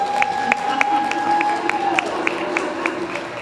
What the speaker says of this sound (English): Please give Edo a round of applause.